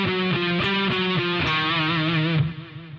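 Distorted electric guitar plays a slow lick, a few sustained bending notes, loud and alone, then ringing out and fading.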